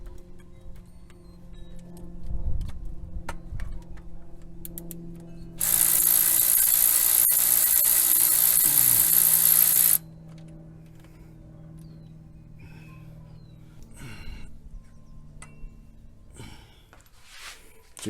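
A tool loosens the reverse-threaded tensioner pulley bolt on a Toyota 1GR-FE 4.0L V6 during water pump work: a steady, loud whirring burst lasts about four seconds mid-clip, with quiet workshop clatter before and after.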